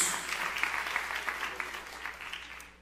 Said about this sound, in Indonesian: Sorak-sorai yang paling meriah buat Yesus